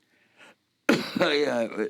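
A faint clearing sound, then a loud, close, harsh cough bursts out and rattles on for most of a second.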